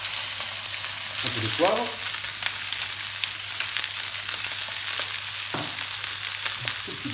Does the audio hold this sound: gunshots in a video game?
no